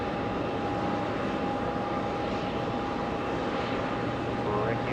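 An Emirates Airbus A380 in Journey to the Future livery near JFK airport, a steady broad jet roar with a faint tonal whine running throughout, moderately distant and continuous.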